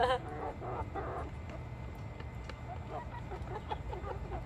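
Chickens cluck softly near a person feeding them apple, with short bursty calls scattered over a low background hum; the sounds are faint and close, with no clear talking.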